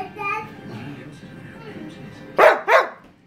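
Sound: dog barking

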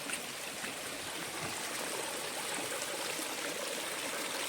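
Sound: flood water flowing through farm field after rain

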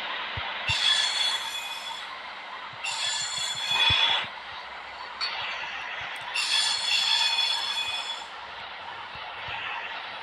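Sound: fast train running in a train video game

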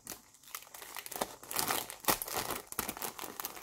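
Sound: paper wrapping crinkling as a package is unwrapped

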